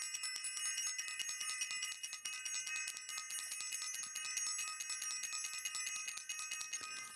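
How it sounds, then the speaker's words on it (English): A bright metallic bell rings continuously in rapid repeated strikes, like a bicycle bell, sustained and fairly faint throughout with no voices. "I want to ring the bell."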